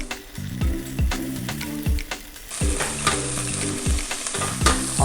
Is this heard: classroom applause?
no